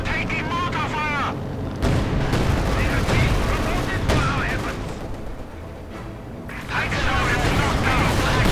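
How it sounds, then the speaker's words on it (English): Mortar fire in the World War II strategy game Company of Heroes 2 during a 2v2 match: repeated loud booming impacts and blasts mixed with gunfire and battle noise, with talk running over them. "Taking mortar fire."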